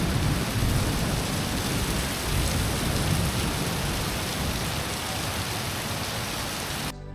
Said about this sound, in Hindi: आप भी लोग सुन लो बारिश और बिजली की रॉ साउंड।